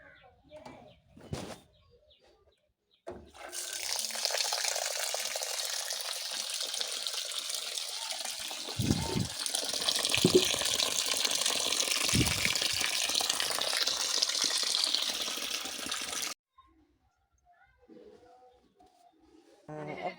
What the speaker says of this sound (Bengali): চাউলটা কিন্তু সাদা হয়ে আছে, তো ধোয়া দিলে পরিষ্কার হয়ে যাইব